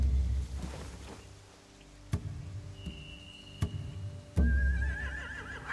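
Horses neighing in a stable scene of The Walking Dead: The Final Season video game, with a few sharp whinnies rising over a low ambient background, fairly close.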